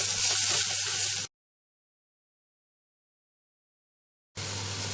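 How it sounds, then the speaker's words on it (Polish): Onion with gyros spice and smooth mustard frying in a pot gives a steady close sizzle, broken by a stretch of complete silence before the hiss resumes. "I chwilką podsmażam tak, aby cebulka lekko zmiękła, a całość zaczęła aromatycznie pachnieć"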